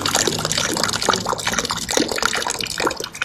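Hot mineral spring water at 47 degrees, from spring number 12 in Karlovy Vary, flows from a tap. It makes a continuous close splashing and trickling with no talking.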